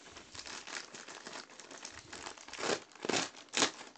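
A knife slicing packaging tape on a parcel holding a car smartphone mount gives a close, continuous crinkly rasp of plastic, then three louder tearing strokes near the end.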